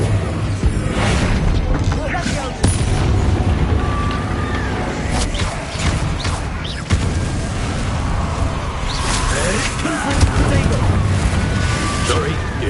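Bombarda spell explosions in Hogwarts Legacy, repeated booming blasts and crackling bursts over dense game noise, with a voice talking beneath them throughout.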